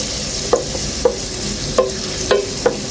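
Garlic browning in butter in a pan: a steady low sizzle with a few distinct spoon scrapes or stirs at irregular intervals, close and moderately loud.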